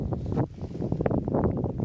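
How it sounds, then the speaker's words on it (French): Wind buffets the microphone outdoors during a metal detecting outing, a close, gusty rumble with rustling bursts throughout the short stretch. "Désolé, il y aura peut-être un peu de vent."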